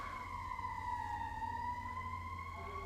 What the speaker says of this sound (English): You can hear a freaking siren going off.